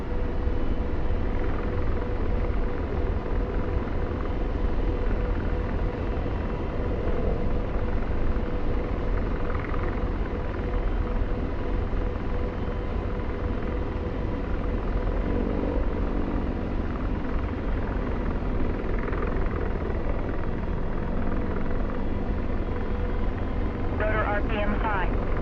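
A helicopter rotor in the DCS World flight simulator gives off a steady, heavy whirring drone that continues unbroken, with radio-style voices talking over it.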